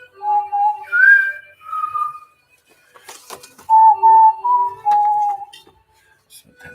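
A person whistles a melody along to a song, a series of clear sustained notes rising and falling with short pauses between phrases, close and fairly loud with faint background clatter.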